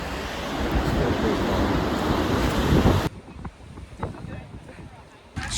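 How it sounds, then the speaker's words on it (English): Strong gusts on the rocky Oregon coast near Cape Perpetua batter the microphone in a loud roar for about three seconds, then drop away to quieter, fluctuating outdoor ambience. "it is very windy out here"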